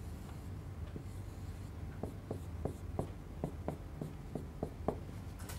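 Chalk or marker tapping and scratching on a board during a math lecture on Green's theorem, a string of short strokes in quick succession over a steady room hum.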